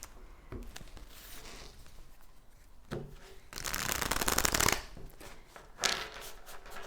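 Oracle cards being shuffled by hand, a run of soft riffling and flapping bursts with a louder stretch in the middle and a sharp flick near the end, close and alone.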